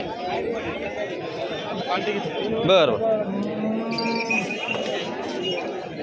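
A buffalo moos loudly nearby at a buffalo market over steady background chatter, with people talking throughout.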